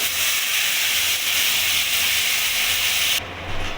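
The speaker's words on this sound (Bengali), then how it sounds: "মিক্সিতে যে পেস্ট করে রেখেছিলাম মশলাটা সেটা আমি কড়াইতে দিয়ে দেবো" A loud, close hissing sizzle of ground spice paste hitting a hot wok, steady and unbroken, dropping abruptly near the end.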